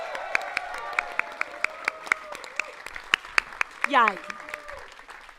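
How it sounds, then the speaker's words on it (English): A small audience claps and cheers for volunteers at a televised event, scattered sharp claps running throughout, a voice calling out, and talk overlapping the applause. "Could you just give them a really big round of applause?"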